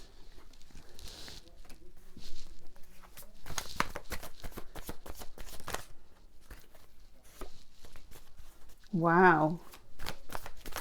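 Chuck Spezzano love cards being shuffled in a brief flurry of soft riffling taps during a card reading, mixed with a spoken voice and a short exclamation.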